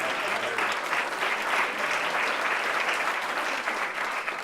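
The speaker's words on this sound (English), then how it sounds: "a lot of applause from the GM table there" Sustained applause rings out from a banquet table of General Motors guests at an awards ceremony, dense steady clapping with a crowd murmur underneath, holding at full strength throughout.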